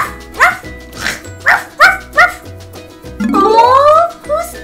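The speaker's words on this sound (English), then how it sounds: "Oh, whose puppy is this?" A puppy barks in a run of short, sharp yips at close range, followed by a drawn-out rising whine, then another yip, all in a family movie scene.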